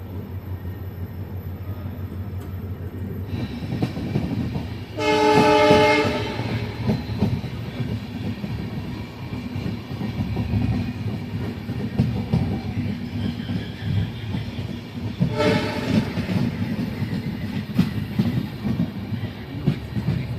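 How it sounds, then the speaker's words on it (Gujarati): Passenger train on the Asarwa to Udaipur route rumbling steadily along the rails, with a continuous low wheel-and-carriage roar and two brief louder bursts like passing trains or horn blasts, no talking. "આપણી જે ટ્રેન છે અસરવાના રેલવે સ્ટેશનથી નીકળી ગઈ છે"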